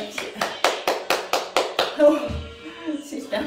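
Eight sharp hand claps in a steady rhythm, close and loud, during a cheerful stretching exercise routine, followed by a voice talking after the claps stop.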